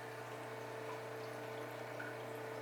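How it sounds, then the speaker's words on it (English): Water pouring into an aquarium sump for a 40-gallon reef tank, a soft steady rushing flow with a constant low pump hum, faint and unbroken throughout. "I guess now it's fill up our sump. You can see there's already water going in there."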